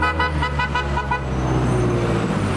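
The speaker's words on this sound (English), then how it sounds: "What is he honking for?" Car horn honking in busy street traffic in Ghana: a rapid series of short, loud toots up close, over a steady rumble of engines and passing vehicles.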